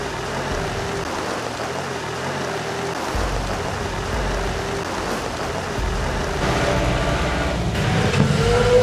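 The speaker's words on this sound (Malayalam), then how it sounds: "മഴ നല്ല രീതിയിൽ പെയ്യാനായിട്ട് തുടങ്ങിയിട്ടുണ്ട്" Steady rain hissing across the whole stretch on a mist-covered hill climb at Kudajadri, with a low rumble beneath and slightly heavier patter toward the end; no voices.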